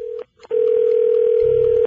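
A steady telephone line tone sounds as a radio show connects a listener's call, one short tone, a brief gap, then a long unbroken tone, loud and alone.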